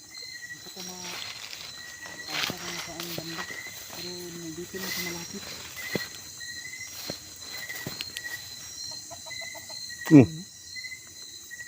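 Chickens cluck repeatedly in short bursts, with a sharp louder rooster call near the end, amid faint outdoor background noise in a mountain forest at night.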